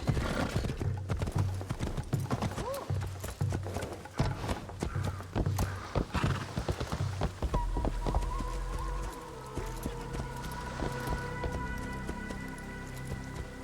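A horse gallops in the Assassin's Creed video game with steady, rapid hoofbeats up close, then slows to a walk, and a tonal background score rises in the latter half.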